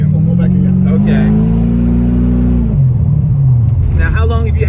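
A 1987 C4 Corvette idles with a big cam, its engine a loud, steady low rumble with a lopey pulse that shifts pitch partway through, while people talk over it nearby.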